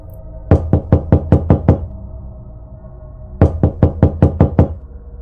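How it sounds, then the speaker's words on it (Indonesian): Two bursts of knocking on a door, each a quick series of about six sharp, loud raps, separated by a pause of roughly two seconds, with no voices. "Suara ketukan pintu memecah suasana hati Bunga Tina yang sedang memikirkan anaknya"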